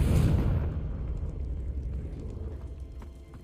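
A Confringo blasting spell in Hogwarts Legacy erupts in a single loud, deep explosion that bursts at the start and then rumbles and decays over a few seconds, with faint crackling debris at the end.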